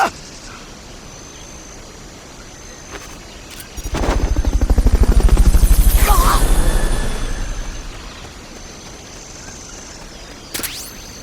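A helicopter in the video game Metal Gear Solid Peace Walker swells in from a quiet background, its rotor thumping in a steady rapid chop as it passes loudly close by, then fades away again.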